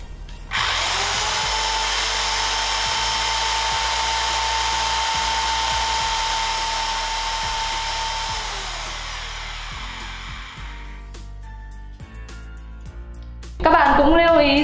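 A corded electric drill runs at a steady high whine for about ten seconds while a clamp meter measures its current, then winds down, with brief voices at the end.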